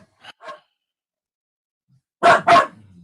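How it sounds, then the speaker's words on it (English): A dog barks twice, close and sharp, after two fainter yaps earlier, with quiet pauses between. "sorry for the dog barking."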